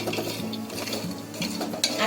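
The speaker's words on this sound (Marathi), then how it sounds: "अक्रोड बघा चांगले 2 मिनिटं भाजून घेतले" Walnuts are dry-roasted and stirred in a pan with a soft continuous scraping and rattling, light sizzle beneath, and a sharper metallic clink near the end.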